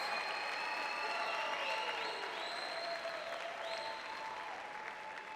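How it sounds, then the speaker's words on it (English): Audience at a university student-athlete graduation ceremony applauding in a large hall, sustained even clapping for several seconds with a few whistles and cheers on top, gradually easing at the end. "let's have a big round of applause for these talented academics"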